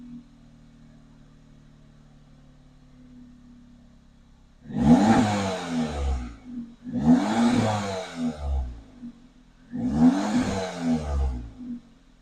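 An Audi with a resonator delete, stock downpipe and aftermarket cat-back exhaust revs three times after a quiet idle, each rev rising sharply and falling back, loud and close.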